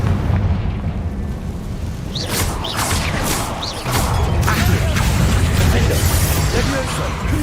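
Spell explosions from the game Hogwarts Legacy, a run of heavy rumbling blasts and bursts lasting several seconds, with a voice speaking over the din.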